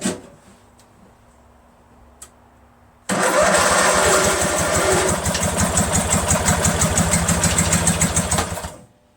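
A Briggs & Stratton engine on a Craftsman LT1000 lawn tractor cranks briefly and then catches, running loud and close with a steady, rough idle for several seconds before cutting off.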